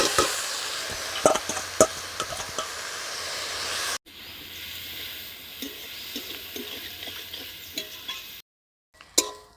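Spinach leaves with turmeric and chili powder sizzle and hiss steadily in a hot frying pan, with a spoon stirring and scraping throughout, a brief break midway and the frying going quiet near the end.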